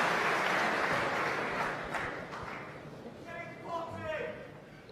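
An audience at a Mosconi Cup 9-ball pool match bursts into applause that starts loud and thins out gradually, and a commentator talks as it fades.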